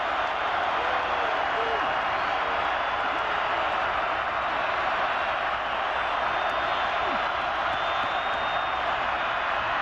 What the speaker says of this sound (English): Rich Rodriguez trying to fire up the crowd again